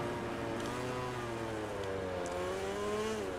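A Suzuki MotoGP racing motorcycle in the MotoGP 20 video game pulls out of the pits at Catalunya, its engine a steady, sustained whine that rises gradually in pitch, with another engine droning beneath, no voices.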